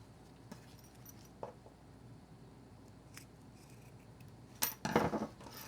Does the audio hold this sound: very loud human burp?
no